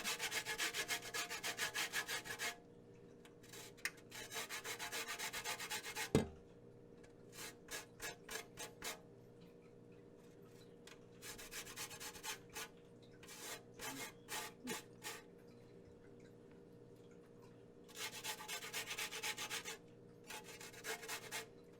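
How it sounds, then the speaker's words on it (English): A small kitchen grater is rubbed in bursts of quick rasping strokes for zest, close and quiet, with pauses between runs and no talk. "I got my little grater friend"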